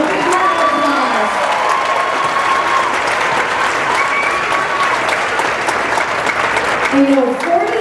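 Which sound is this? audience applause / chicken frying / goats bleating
audience applause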